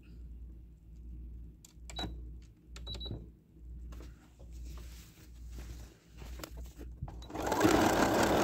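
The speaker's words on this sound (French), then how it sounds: "Et je vais coudre l'autre partie qui est là." A sewing machine topstitches fabric from the inside, running in steady bursts with brief pauses and needle clicks, close and alone, ending in a louder burst of noise.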